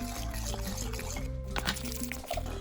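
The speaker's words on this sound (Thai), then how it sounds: "ต้องใส่น้ำเยอะ" Water pours steadily into wheat flour for roti dough, a continuous close trickle and slosh running under light kitchen background noise.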